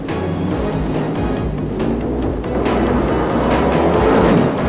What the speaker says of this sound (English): no funny car has ever ripped up the track like this one